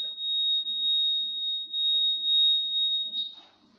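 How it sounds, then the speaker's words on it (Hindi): An electronic voting machine gives one long steady high-pitched beep confirming a cast vote, clear and continuous for about three seconds before cutting off, with faint background noise underneath. "बीप की आवाज इस बात का इशारा होगा कि आपका वोट पोल हो चुका है।"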